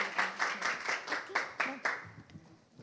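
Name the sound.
audience applause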